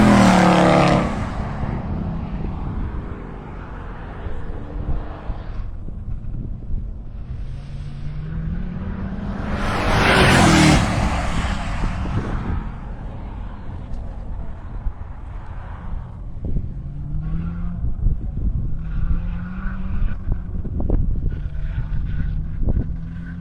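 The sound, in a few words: Camry race car lapping Carolina Motorsports Park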